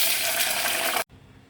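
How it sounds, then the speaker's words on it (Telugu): Water from a glass pouring steadily into a hot pan of tempering for upma, a continuous gushing splash for about a second before stopping abruptly. "ఎసరు పోద్దాం."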